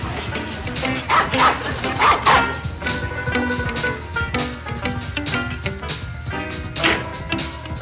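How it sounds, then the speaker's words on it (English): Small dog yapping and barking in repeated short bursts close by, mixed with background music and some voice activity. "Get off of there and go on back home, you little mutt."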